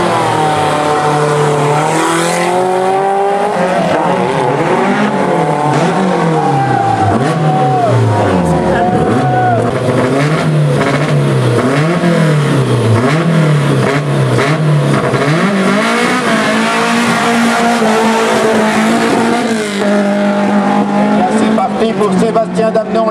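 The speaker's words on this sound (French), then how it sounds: "Alors qu'avec le numéro 126, se présente à son tour, c'est la Renault 8 Auto de Jocelyn Avier." Renault 8 racing car climbing a historic hill climb, engine loud and close as it revs up and down through gear changes with brief tyre squeals, while a commentator talks over it throughout.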